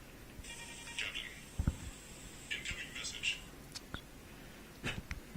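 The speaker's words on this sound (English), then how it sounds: "Your phone's being very noisy here, Andrew." Mobile phone notification chirps during a live sports broadcast, several short electronic tones sounding repeatedly, with a commentator's voice talking quietly underneath.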